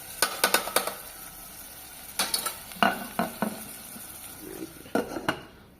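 Egg curry cooking in a kettle is stirred lightly, a utensil clinking against the metal in short clustered scrapes and taps, spaced by pauses, over a quiet low simmering hiss.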